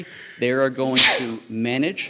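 Someone sneezes once during a city council meeting, a brief sharp burst squeezed between stretches of close talking.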